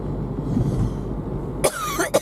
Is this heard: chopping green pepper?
no